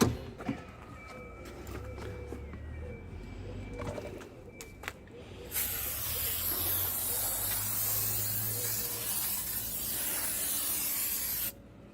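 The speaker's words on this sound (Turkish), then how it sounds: "Bu silikon spreyi torbidolardaki plastiklerin arasına da sıkabilirsiniz gıcırtıyı gidermek için." After a few light clicks and handling sounds, a loud, steady hiss of silicone spray lubricating squeaky plastic parts on a Renault Megane 2 lasts about six seconds, then cuts off abruptly.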